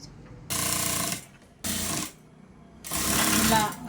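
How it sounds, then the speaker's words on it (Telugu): A sewing machine stitches piping cut from saree cloth in three close bursts of steady mechanical whirring, separated by short pauses, with no talking. "మంచి మర పైన సీదా సైడు ఇలా 1 సైడు స్టిచ్ చేసుకురండి"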